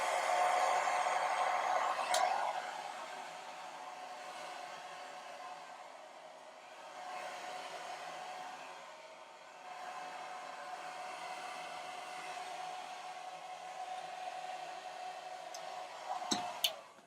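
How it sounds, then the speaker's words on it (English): A handheld blow dryer on its cool setting blowing air over freshly set curled hair, a steady close whoosh lasting the whole time with a slight dip midway and a brief clatter near the end. "You can take your blow dryer if it has a cool setting on it, and you can just give it a shot of cool air."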